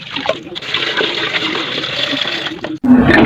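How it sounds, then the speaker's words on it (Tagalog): Bagoong shrimp paste rinsed under running water, a steady splashing stream of liquid pouring and swirling for about three seconds, then a brief pause and a louder, closer gush of water. "Huhugasan ko muna itong bagong para mabawasan naman yung sobrang alat niya at malinisan na rin."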